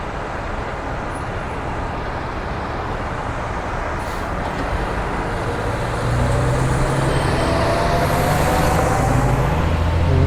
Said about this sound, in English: Fire truck coming out.